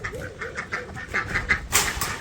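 Ducks and geese call near a farmyard in a rapid run of nasal quacks and honks, close and fairly loud, ending in a harsher burst.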